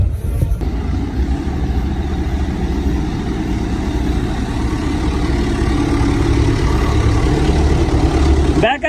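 A tractor hauling a trolley through muddy, rain-flooded village lanes, its engine droning in a steady, loud, low rumble that runs unbroken throughout.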